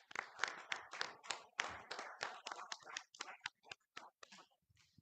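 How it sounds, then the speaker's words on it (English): A small audience at a city council meeting claps for an honoree, with scattered hand claps that start fairly strong and thin out into a few sparse, quieter claps by the end. "So let's give Debbie a hand of applause."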